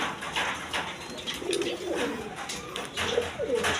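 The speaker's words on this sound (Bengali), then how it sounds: "এইখানে এক পেয়ার রেসার কবুতর আছে" A pair of racer pigeons cooing close by, soft repeated throaty coos over a background of rustling and faint ambient noise.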